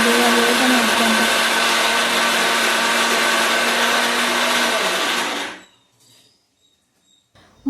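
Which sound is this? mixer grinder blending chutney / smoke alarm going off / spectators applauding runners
mixer grinder blending chutney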